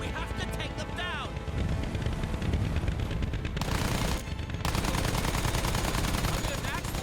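Rapid machine gun fire from aircraft gunners in Battlefield 1 rattles continuously and loudly throughout, mixed with engine roar and a dense wash of battle noise.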